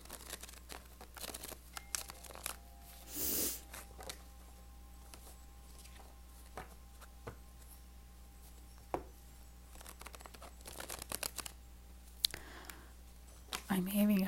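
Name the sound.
shuffling tarot cards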